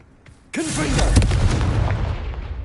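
A Confringo fire spell in Hogwarts Legacy on PS5 erupts in a sudden loud blast, then a sustained roaring, crackling burst that fades slowly.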